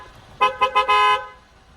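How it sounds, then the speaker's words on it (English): Horn of a 2021 Cadillac XT5 Luxury sounding three short honks then one longer sustained blast, loud and close, with a quiet idle hum underneath. "I really love the horn on this thing though."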